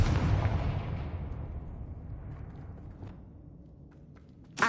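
A Confringo blasting spell detonates in Hogwarts Legacy, a loud explosive boom that decays into a long rumbling tail, followed near the end by a fresh sharp burst.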